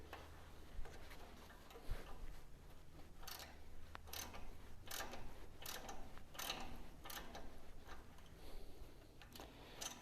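A hand thread tap cuts threads into a hole in a steel transmission mount for a 1951 Chevy truck, giving faint repeated ratcheting ticks and scraping clicks at an uneven, steady working pace.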